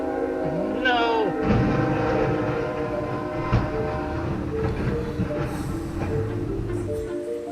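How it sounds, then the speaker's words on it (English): In a video game, a train rolls through with a rhythmic clattering rumble and a rising horn-like tone early on before slamming into a tank. A person talks over part of it. "That's what happens when a tank gets hit by a train"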